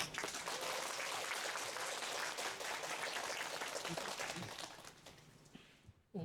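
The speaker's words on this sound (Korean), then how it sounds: "조성순 선생님 큰 박수로 환영해 주십시오" An audience at a picture-book forum gives sustained applause, fairly faint and steady, fading out toward the end.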